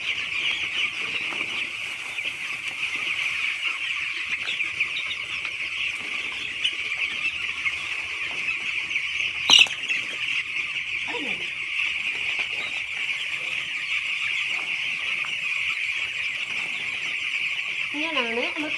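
Hens in a backyard coop cluck softly at feeding time under a constant high insect-like drone, with a sharp clatter about halfway through.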